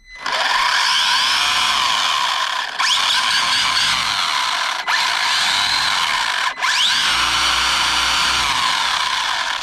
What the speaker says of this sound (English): here's the sound of a healthy pinion spur gear.